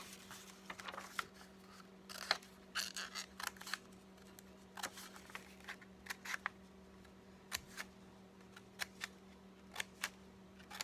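Scissors cutting paper along ruled lines for a castle collage, a string of short crisp snips in irregular bursts, close and fairly quiet over a steady low hum, with no talking.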